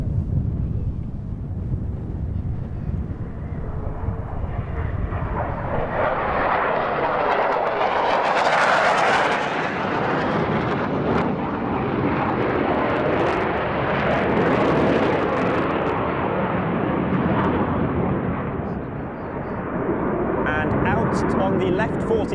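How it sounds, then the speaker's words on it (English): Black Eagles display team jets flying at the Royal International Air Tattoo 2022, a loud sustained roar that swells and fades as the aircraft pass along the crowd line, with a commentator talking over it. "The aircraft at the front will perform a slow roll down the crowd line."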